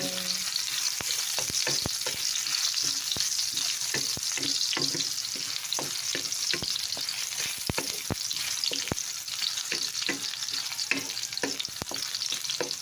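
Garlic fries in oil in a pan with a steady, close crackling sizzle, marked by frequent sharp spits and occasional stirring clicks throughout.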